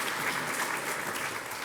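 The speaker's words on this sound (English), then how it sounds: "Can we please give him a round of applause?" An audience claps at a trails summit, a dense, even burst of applause heard close and alone for under two seconds.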